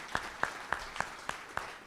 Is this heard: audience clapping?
yes